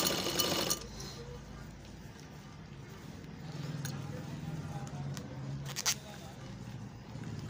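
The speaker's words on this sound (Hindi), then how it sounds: "किनारी के सिलाई मार के देखते हैं मेरा किनारी का सिलाई सही चल रहा है या नहीं चल रहा" An electric sewing machine whose stitching has not been pulling properly runs along the edge of double-layer cloth, its motor whirring steadily at moderate volume after a brief louder burst at the start.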